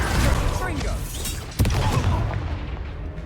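Confringo fire spell blasting in the Hogwarts Legacy video game, a loud boom with a sharp burst midway over a dense, rumbling game battle mix, with voices speaking throughout.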